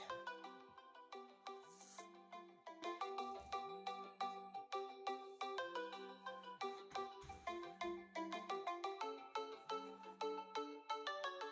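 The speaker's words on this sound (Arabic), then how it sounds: "صوت التليفون ده فين؟" A melodic phone ringtone plays loudly and continuously, its repeating chime pattern cycling over and over with no voices.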